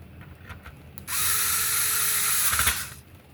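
An electric screwdriver whirs as it drives a screw into a plastic Nintendo GameCube DOL001 case, a close, steady buzz lasting about two seconds before cutting off, with faint handling clicks before and after.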